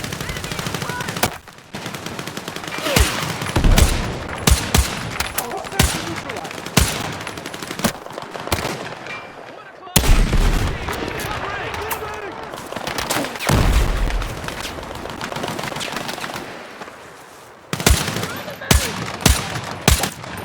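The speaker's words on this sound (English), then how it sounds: "Suppressing fire!" Suppressing gunfire in Battlefield 6, with machine guns and rifles rattling in dense, loud automatic bursts, sharp close shots and short pauses, and shouted voices between volleys.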